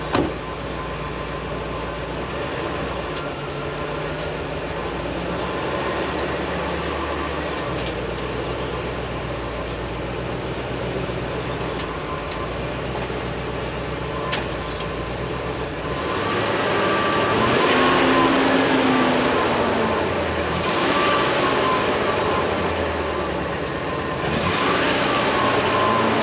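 Flood-damaged classic car engine running roughly, misfiring with a muffled, quiet exhaust, a continuous uneven rumble over about 26 seconds that grows louder past the midpoint.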